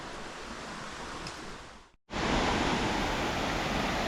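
Water rushes over a weir along a pilgrim trail, a steady broadband roar that dips to silence midway and returns louder and closer, with no talk over it.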